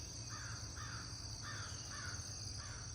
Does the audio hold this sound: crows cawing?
yes